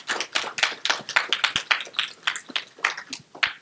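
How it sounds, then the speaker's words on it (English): An audience at a Code & Coffee meetup applauds a speaker named Holly, dense steady clapping with many overlapping hand claps, fairly loud and close, with no talking over it. "Please give Holly another round of applause"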